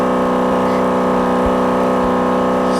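A race car engine in a Daytona beach racing video game, a loud, steady synthetic drone holding a constant pitch with a couple of brief low thumps, with no talk.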